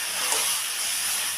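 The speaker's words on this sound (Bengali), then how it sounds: "এখন আমি মাংসটাকে নেড়ে চেড়ে রান্না হতে দেব।" Chicken cooks with spices in a pan, giving a soft continuous hissing sizzle, steady and moderately close, with no stirring strokes standing out and no voices.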